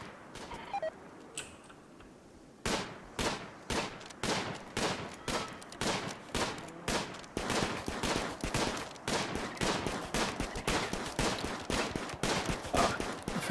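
Rapid, evenly spaced gunshots from RimWorld colonists firing on a downed enemy, a sustained burst of sharp cracks growing denser and steady after a brief quiet start, with no talking.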